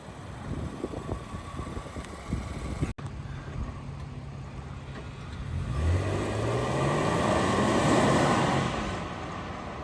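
A 2025 Nissan Armada PRO 4X drives off, its engine note climbing steadily as it accelerates, with a broad, loud road and wind roar building inside the cabin.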